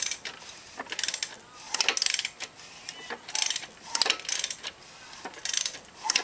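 A hand ratchet cranking the crankshaft of a Kawasaki ZX6E Ninja engine during a valve adjustment, heard as repeated close, loud bursts of rapid clicking separated by short pauses.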